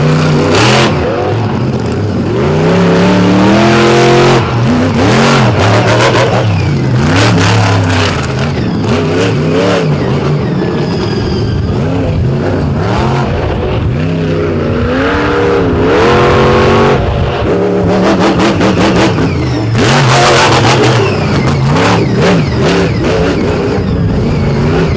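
A monster truck engine revs hard and continuously at a nighttime competition by Lake Erie, loud and close, with repeated surging rises and drops in pitch as the throttle is worked.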